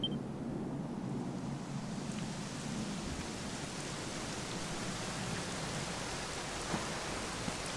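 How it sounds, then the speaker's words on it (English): Steady rain falls in Dragon Quest XI S at the Dundrasil ruins, a continuous even hiss of drops with no break and no one speaking, moderately quiet throughout. "it was raining like this the last time I ever saw her"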